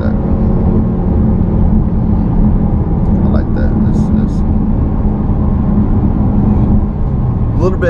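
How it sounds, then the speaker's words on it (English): Heard from inside the cabin, a Volkswagen Arteon R-Line downshifts and accelerates, with a loud, steady engine and road drone throughout and a few faint clicks and knocks over it. "You'll feel the downshift and she goes."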